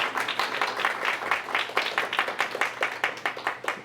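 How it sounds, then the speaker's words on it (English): Applause from a lecture audience at a Lenten talk: many hands clap in a dense, even rhythm at moderate volume, with no other sounds. "It's kind of always nice to get an applause before you say anything at all."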